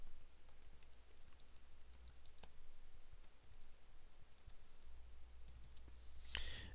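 Soft, quiet clicks of typing on a computer keyboard, with irregular keystrokes over faint room hiss and a slightly louder burst near the end.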